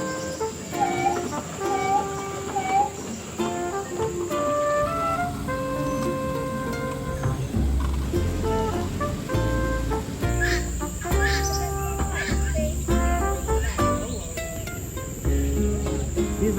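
Wooden sticks stroked to imitate bird calls at a Singapore bird park, giving repeated chirping, cricket-like rasps against a busy background of layered tones, with no clear speech.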